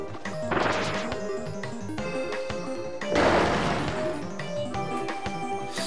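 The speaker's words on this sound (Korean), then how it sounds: "저 보물상자 왠지 박살내면 안 됐을 것 같은 그런 기분이 들어" Treasure chest being smashed in Kirby Triple Deluxe on the 3DS: two loud crashing bursts about three seconds apart over steady game music, each followed by bright tinkling.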